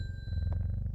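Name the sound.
bell ringing in a video game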